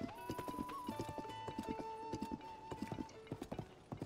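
A horse trots in Zelda: Tears of the Kingdom with steady, quick hoofbeats clopping throughout, overlaid by a long, sustained whinny, all moderately quiet and unaccompanied by speech.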